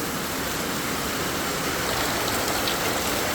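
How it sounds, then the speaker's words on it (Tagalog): Heavy typhoon rain pours down in a steady, dense roar, a continuous hiss of water drumming on surfaces nearby with no pauses throughout. "ano ang ulan na napakalakas"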